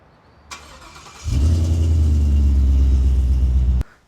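A 2016 Ford Mustang's 5-litre Coyote V8 cranks after a brief click, then fires into a loud, deep, steady idle rumble close by. It runs for over two seconds and cuts off abruptly, with no voices.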